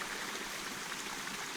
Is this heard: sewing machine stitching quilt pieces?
no